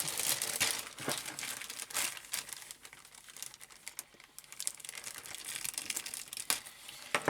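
A package is opened during an unboxing, giving faint, close crinkling and tearing of packaging with a few louder rustles and no speech.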